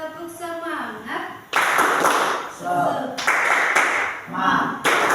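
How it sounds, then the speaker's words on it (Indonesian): A classroom of children bursts into a rhythmic spirit clap, loud sharp bursts of clapping in patterned groups, with children's voices chanting between and under the claps. "Coba tepuk semangat."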